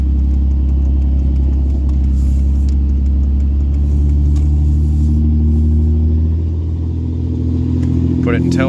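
Engine of a pickup truck in tow-haul mode, towing a tiny home, pulling out onto a muddy road; a steady low drone with a rising rev near the end, alongside talk.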